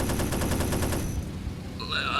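Rapid machine-gun fire in the video game H&D2, a loud, evenly spaced burst of shots for about a second, then a brief lull before a high whining tone rises, with no talking.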